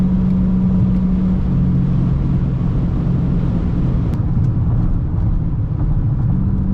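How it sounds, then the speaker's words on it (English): A Chrysler 300C V8 drones steadily with a low, sustained engine note and a slight pitch change, loud and constant with no talking. "V8 screaming is one of the best sounds in the goddamn world"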